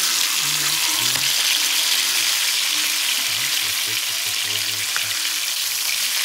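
Meat fries in a hot pan with a steady, dense sizzle that carries on without a break, with faint scraping and low background noise beneath it and no talking.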